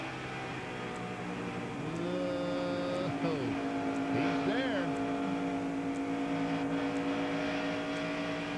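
NASCAR Winston West stock cars race at California Speedway in May 1998, engines droning loudly with rising and falling pitch as cars pass, blended with crowd and track ambience while a commentator talks over them.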